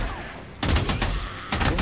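Gunfire in Days Gone, two loud sharp bursts of rapid shots, the first at mid-clip and the second near the end, close and forceful.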